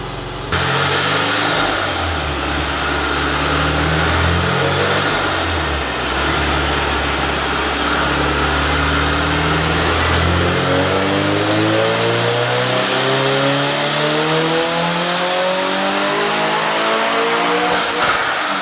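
A tuned car's engine revs hard through a full pull, loud and close, its pitch sweeping steadily upward for about eighteen seconds, then cutting off near the end.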